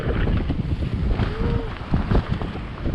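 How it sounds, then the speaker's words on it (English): A strong desert windstorm with gusts of 50 to 60 mph, loud blustery rushing air pounding the microphone in uneven bursts, with a faint brief whistle partway through. "desert windstorms that you get where the wind's like 50, 60 miles an hour"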